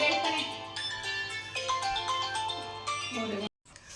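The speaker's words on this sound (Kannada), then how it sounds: "ಫೋನ್ ಬತ್ತು ಯಾವುದು ಅಕ್ಕಂದು" A melodic phone ringtone plays steadily for several seconds with a busy background, then cuts off suddenly near the end.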